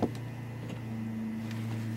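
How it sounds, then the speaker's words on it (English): A boat's freshwater pressure pump kicks on with a sharp onset, then settles into a steady, close mechanical hum that runs on unbroken with no one talking. "Hear the pump come on?"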